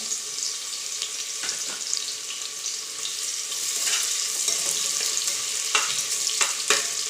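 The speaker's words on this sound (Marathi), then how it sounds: "कांदा आपल्याला एकदम मस्त असा परतून घ्यायचा आहे" Onion sautéing in hot oil in a pan for a home-style drumstick vegetable curry. It gives a bright, steady frying sizzle with intermittent scrapes and taps of a stirring spoon, fairly close and without talk.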